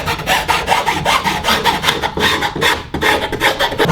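Hand sawing through wood for a model mountain frame: a loud, close, steady rasping with regular back-and-forth strokes, continuous for several seconds and heard alone.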